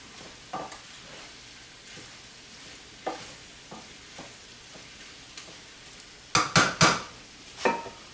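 Pre-cooked bacon and cilantro stirred in a frying pan for potato hash: a low, steady sizzle with scattered utensil scrapes, then a quick cluster of loud metallic clanks near the end.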